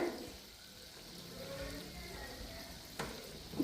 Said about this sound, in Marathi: चकली तळताना सुद्धा खूप काळजी घ्यावी लागते